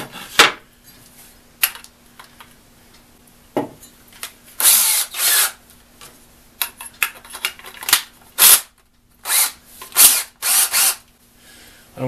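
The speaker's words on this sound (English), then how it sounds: "first drill a hole into this to make a pilot." A power drill whirs in a series of short, loud bursts separated by brief pauses, drilling a pilot hole close up.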